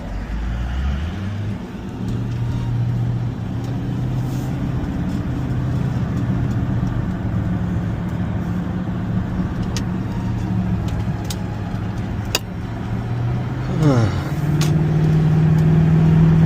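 A cold car engine idles at 0 degrees, starting with a rising start-up surge, then settling into a loud, steady hum with a few small clicks and a higher tone shift near the end.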